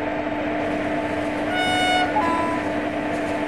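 Horn of an approaching train in Trainz Simulator on a Himachal route with a WAP-7 locomotive, a short tonal blast sounding over steady rail rumble and engine hum, no voices.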